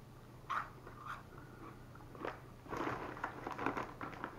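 Crunchy chewing of UTZ Red Hot Cheddar Cheese Balls, close to the mouth, with a few separate crisp bites early on and then a denser run of crunching, no talking.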